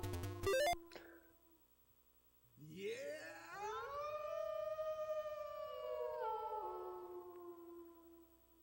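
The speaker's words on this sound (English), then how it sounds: "that's howling a lot" Dogs howl nearby in one long, rising, wavering wail that holds for several seconds and then falls away. It follows a burst of retro video-game bleeps.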